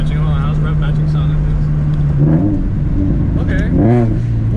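A Scion FR-S with a TRD cat-back exhaust blips through a rev-matched downshift: a steady low idle drone, then two sharp throttle blips that rise and fall quickly, close and loud, with people talking over it.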